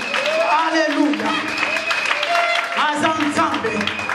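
A church congregation applauding and cheering in praise of God, with a crowd's clapping and voices rising together in a reverberant hall, while a voice carries on over the noise.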